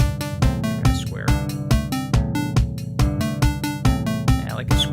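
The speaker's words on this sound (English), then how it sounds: "I like a square wave that decays a little better than that sawtooth here." Synthesizer square-wave notes with a fast decay in a repeating pattern over a steady beat, each note bright and buzzy with a short decay.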